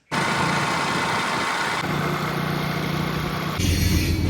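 A motorbike engine idles steadily in a Gujarati village, a loud, close, continuous rumble with no pauses, shifting slightly in tone partway through.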